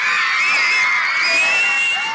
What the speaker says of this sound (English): The kids scream and yell, they get excited.